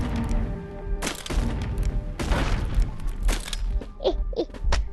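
Bursts of gunfire ring out in the virtual reality game Animal Company, loud and close, with a few separate blasts spread across the moment and a brief voice near the end.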